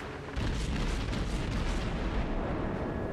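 Heavy naval gunfire from the battleship Wyoming in the World of Warships game, a dense rumbling barrage of booms that rolls on loudly and continuously without a clear break.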